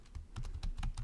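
Rapid keystrokes on a computer keyboard as a name is entered into accounting software, a brief run of close, quiet clicks over a low hum.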